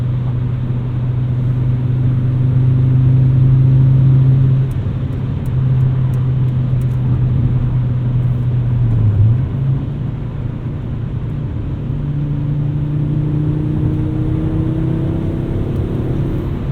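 A 1997 Volvo 850 R with a 5-speed manual driving on new suspension, heard from the cabin as a steady engine drone and road rumble, with pitch dropping at a shift and then rising again under acceleration.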